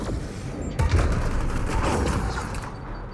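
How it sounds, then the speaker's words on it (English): Grenade launch and gunfire in the sci-fi game Mass Effect Andromeda: a sharp thump kicks off a rolling burst of rapid shots and booms that carries on steadily through the clip, fairly loud and close. "Launch the grenade!"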